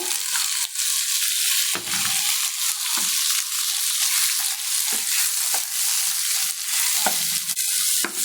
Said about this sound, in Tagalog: Haluin lang po natin siya ng haluin hanggang maluto po yung ating tomato